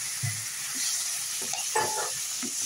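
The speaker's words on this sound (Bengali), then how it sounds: "এবার এটার মধ্যে আমি ঝোল দিয়ে দেব।" Sizzling spice paste in a pan for a fish curry, with broth poured in: a steady high frying hiss with a brief louder surge of bubbling and splashing midway, close and without talk.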